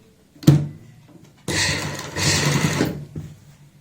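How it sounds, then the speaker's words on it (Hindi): Sewing machine stitching down a kurti neck collar: a short burst near the start, then a sustained, steady whirring run of stitches for about a second and a half, close and fairly loud with no talk. "ऊपर से हम सिलाई लगाएंगे तो ये बिल्कुल यहाँ पे फिक्स हो जाएगा इस तरीके से"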